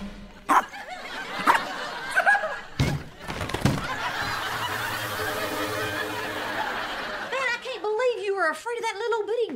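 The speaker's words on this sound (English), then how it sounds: "Afraid of that little bitty dog." A small dog yaps in short sharp bursts, then whimpers and growls near the end, with people laughing and talking around it.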